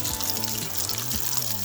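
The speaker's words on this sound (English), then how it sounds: "To that same oil, you're going to add the sausage. You're going to saute these for a little bit." Sausage sautéing in oil for jambalaya gives off a steady, close sizzle with a constant crackling hiss, while a low hum runs beneath it.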